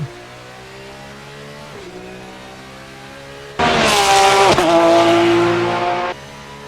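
The Racesimstudio RSS Porsche GT3 race car in Assetto Corsa hums along, then suddenly blares louder as the engine revs hard for a few seconds with tires squealing, before dropping back to a quieter drone.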